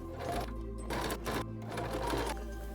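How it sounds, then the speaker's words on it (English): A sewing machine runs steadily, stitching elastic into a seam on a thrifted garment, a close continuous whirring chatter with brief dips in speed. "So I'm gonna flip it inside out and be stitching it to here."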